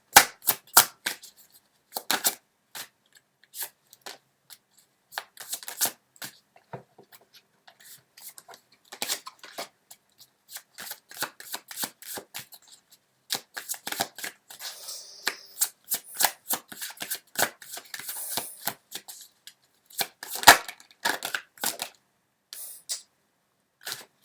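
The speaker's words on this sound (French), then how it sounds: "je vais sortir une autre carte" A deck of cards is shuffled repeatedly in sharp, crisp riffling bursts with clicks and pauses between them, close and clear, with no talking.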